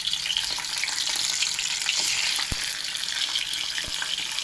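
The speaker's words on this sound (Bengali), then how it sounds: "মাছটা ভাজা হোক, লাল করে ভাজবে।" Fish pieces frying in hot oil in a pan for a spicy fish and potato curry, with a steady loud sizzle throughout and a few sharp clicks of the fish being moved, no talking.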